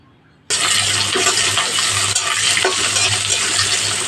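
Chopped onion frying in hot oil with bay leaf, cloves and cinnamon, a loud sustained sizzle that starts suddenly and continues steadily, close by.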